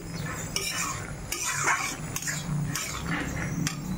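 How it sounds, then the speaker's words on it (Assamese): Dried fish is dry-roasted in an empty wok. A spatula stirs and scrapes against the metal in quick, irregular strokes close by, with a faint sizzle underneath. "এতিয়া শুকান কেৰাহীত ভাজি ল'ম"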